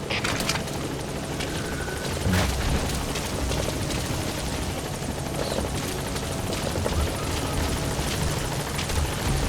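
Enemy helicopter in Metal Gear Solid V: The Phantom Pain, a loud sustained rotor thrum and engine roar filling the scene continuously, with rumbling combat noise and no talk.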